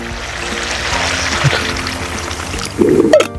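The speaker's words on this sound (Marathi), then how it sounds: "याच्यात आपण थोडंसं पाणी ॲड करूया" Water poured into a bright green onion-leaf vegetable curry, a continuous splashy rush under broad kitchen noise, ending in a louder, fuller gush near the end.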